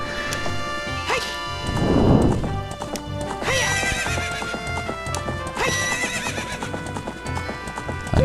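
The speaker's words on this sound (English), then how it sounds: "Get on your horse." On horseback in the Ocarina of Time video game, hooves clip-clop in a quick galloping rhythm while the horse lets out repeated loud neighs, with some game music and a crunchy impact sound mixed in.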